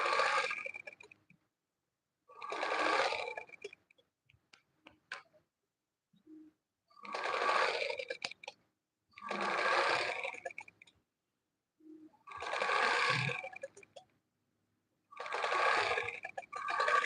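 A sewing machine runs in short bursts while a dress is being finished, about six separate runs of a second or two each with quiet pauses between, close and fairly loud, no talking.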